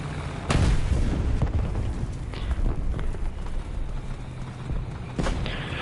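A bomb goes off in the tank game War Thunder, a deep booming blast that rolls into a long rumble of battlefield noise, with a second sharp impact near the end. No voices.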